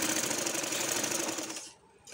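A sewing machine runs in a fast, even rattling burst while stitching gum lace onto a kameez's chalk panels, then stops briefly before starting again.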